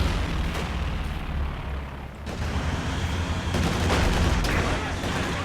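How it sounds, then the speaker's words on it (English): A Katyusha rocket artillery concentrated barrage in Company of Heroes 2, a dense rumbling wall of explosions and rapid impacts with sharper bursts layered on top, loud and continuous throughout. "Katusha low on health, but Veteran 1 calling concentrated barrage"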